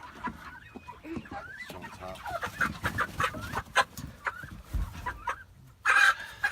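Several chickens cluck and squawk close by in a farm setting, with repeated short calls overlapping throughout and a louder burst of squawking near the end.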